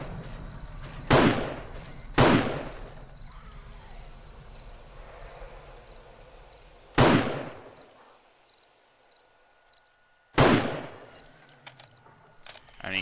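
Sniper rifle in the zombie survival game 7 Days to Die fires four loud, sharp shots spaced unevenly over several seconds. A faint, steady beeping pulses in the background between the shots.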